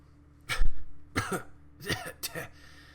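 A voice imitates someone coughing up blood, four harsh, wet, gurgling cough bursts spaced about half a second apart, close and fairly loud against quiet background.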